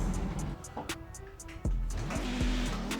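An Audi Quattro rally car drives hard, its engine droning loudly and continuously while the pitch climbs and drops sharply through gear changes.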